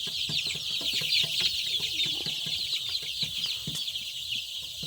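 Fourteen-day-old native chicks on a poultry farm cheep and cluck continuously, a dense, close chorus of many small birds with scattered sharper peeps throughout.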